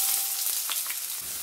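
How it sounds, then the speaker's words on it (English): Onion sautéing in a little hot oil in a wok, a short burst of close steady sizzling hiss with a faint stir. "Saute it till golden brown."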